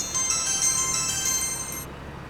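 A phone ringtone plays as a bright, looping electronic melody at steady loudness. It lasts nearly two seconds and then cuts off abruptly, with no talking.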